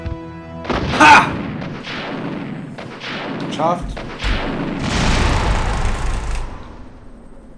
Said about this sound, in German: Ihr habt die Explosion quasi doppelt gehört.